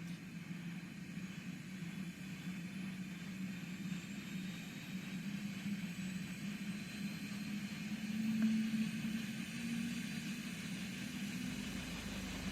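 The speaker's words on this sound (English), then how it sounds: "that is the first engine that is on idle at the moment" A Eurocopter EC145 helicopter's first engine idles in Microsoft Flight Simulator with a constant low hum and faint high whine, swelling briefly in loudness before settling back to a steady drone.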